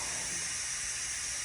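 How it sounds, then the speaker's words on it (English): A pressure cooker releases steam through its valve while one-pot hamburger macaroni cooks, producing a loud, steady, unbroken hiss with no pauses or voices. "how long it takes to release the steam, depending on your model"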